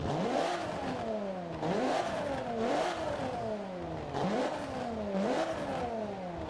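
An Alfa Romeo Giulia Quadrifoglio engine in the Forza 7 video game revs up and drops repeatedly in a regular rising and falling pattern, with crackles from the exhaust on each lift, loud and close with no talking.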